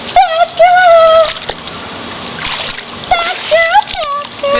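Water splashes loudly in short bursts while high-pitched excited voices squeal and shout over the splashing, close to the listener.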